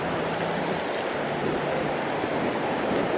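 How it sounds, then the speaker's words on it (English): Steady broadband roar of high ocean waves breaking on a beach at Seminyak, Bali, continuous and fairly loud with some wind noise on the microphone and no talking. "The waves are very high."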